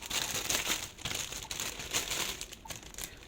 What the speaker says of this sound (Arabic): وهجيب كيس كده شفاف وادخل فيه الرمان